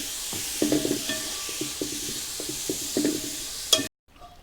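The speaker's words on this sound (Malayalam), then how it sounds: "ചെമ്മീൻ ചേർക്കുകയാണ് ഇതിലേക്ക്." Prawns hit a hot cooking pan and sizzle steadily, with repeated scraping stirring strokes throughout, before the sound cuts off abruptly.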